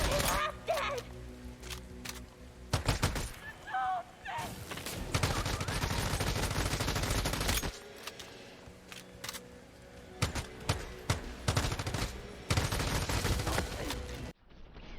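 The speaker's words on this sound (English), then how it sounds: "The submachine gun on the other hand has 36 ammunition capacity, shoots really fast and has a faster reloading speed." Submachine gun fire in the looter-shooter game Once Human: repeated loud rapid bursts of automatic shots with short pauses between them, set against busy game ambience.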